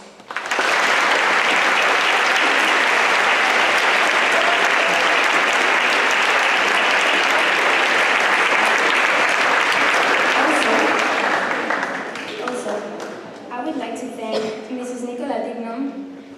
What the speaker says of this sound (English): Please, let's give them all an applause.